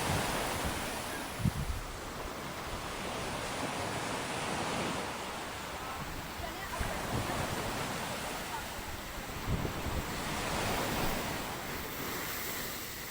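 Sea waves surge continuously at Turtle Beach near Hawksbay, Karachi, a broad roaring wash of surf with periodic swells and wind buffeting the microphone, loud and enveloping throughout with no voices clearly standing out.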